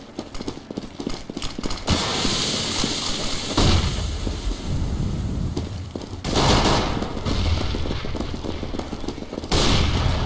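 Rapid gunfire from the video game CS:GO on the de_dust2 map, including AWP sniper shots, comes in dense, loud bursts that fill the whole stretch with barely a pause between volleys.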